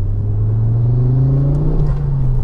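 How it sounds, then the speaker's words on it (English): Ford Focus RS Mk2 engine pulling steadily from inside the car, a loud continuous low drone that slowly rises in pitch, with a faint whistle from the turbo spooling on top. "And you can hear the turbo as well."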